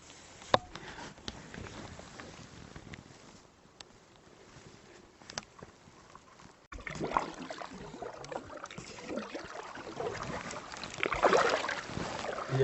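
A boat paddled upstream against the current on the Yukon River in Alaska: soft, irregular paddle splashes and water swishes, close but faint, with light wind noise and a few sharp knocks.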